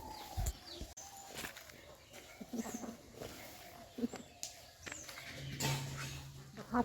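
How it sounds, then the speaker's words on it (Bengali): Birds call at dawn around a quiet village forest nature camp at Gurguripal: scattered chirps and whistles near and far over soft rustling ambience, with occasional thuds and distant animal sounds. "এই যে পাখির আওয়াজ, সব প্রকৃতির আওয়াজ"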